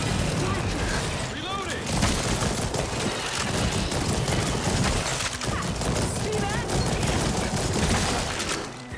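Shotgun blasts and chaotic combat noise in the zombie co-op shooter After the Fall on master difficulty, repeated loud shots layered under overlapping excited voices throughout.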